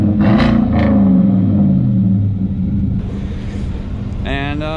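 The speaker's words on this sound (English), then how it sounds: "we got a quick exhaust clip, True Duals, the cherry bomb" Two-wheel drive truck with true dual exhaust and Cherry Bomb mufflers, a deep loud idling rumble with a brief rev, heard close up without talking.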